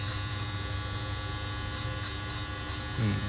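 Electric hair trimmer slowly trimming a mustache to an even length, a steady close buzzing motor hum running throughout, briefly louder and rougher near the end as it presses against the hair.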